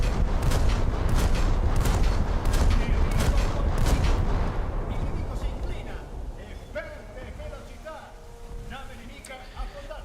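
Ship guns in a naval video game firing at an enemy destroyer: dense rapid booming salvos for the first half, then fading, while someone talks over the top.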